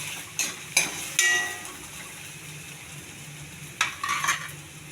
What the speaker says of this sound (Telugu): Carrot, green peas. కొంచెం బాగా ఫ్రై చేసుకోవాలి.